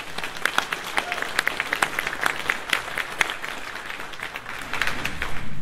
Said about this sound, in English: why don't you give yourselves a round of applause for that?